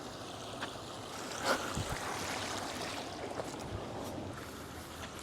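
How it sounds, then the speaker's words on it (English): Water flowing in a small stream in the woods, a steady broadband rush and gurgle, close and continuous, with faint splashes and no voices. "I think the water is flowing down from over there and it goes all the way across and then it just keeps going"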